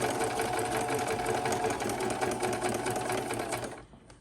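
A sewing machine runs steadily, stitching book-page paper strips into a ruffle ribbon with a fast, even mechanical chatter, close and continuous, before it slows and stops at the very end.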